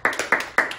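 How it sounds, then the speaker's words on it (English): Three sharp hand claps in an even rhythm, close and clear, made by a group playing a Simon Says game during a church worship service. "Simon says, clap your hands."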